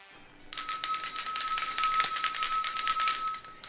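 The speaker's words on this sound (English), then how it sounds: "You rang your bell with all that CBD coffee." A bell rings in a steady, sustained shimmer for about three seconds, loud and close, with no talking.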